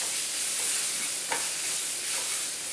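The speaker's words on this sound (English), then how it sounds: "Then I'm going to be putting in turmeric" Turmeric tipped into a hot pan of sizzling oil while cooking asparagus thoran, a steady close frying hiss with faint stirring and one brief soft clink partway through.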